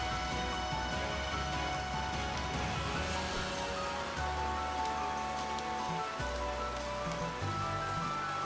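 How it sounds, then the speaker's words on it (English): Rain pours steadily in the pirate-themed game Horizon's Gate, a soft continuous patter heard alone, broken by low thudding tones from game sounds. "It is raining, which is not great for not getting hit by the."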